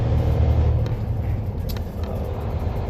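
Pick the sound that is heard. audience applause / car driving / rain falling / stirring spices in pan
car driving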